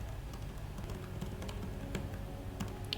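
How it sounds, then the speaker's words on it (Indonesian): A username is typed on a computer keyboard during server administration work: rapid, irregular key clicks tap close and moderately quiet over a soft background hum, with no talking. "lalu mengetik username-nya"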